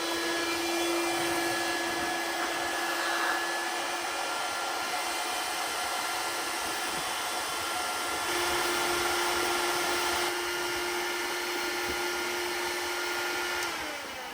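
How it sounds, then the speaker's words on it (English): A corded electric air pump inflates an air mattress with a steady, high-pitched whirring blow and a constant tonal whine, uninterrupted and near for the whole stretch, ending with a slight change in pitch and no talking. "So first, let's hook up the corded pump and see how this goes."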